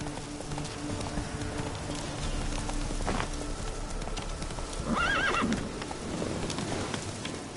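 Horse hooves clip-clop at a gallop in The Witcher 3, a steady run of hoofbeats with a loud neigh near the middle, over faint ambient rain and insect noise.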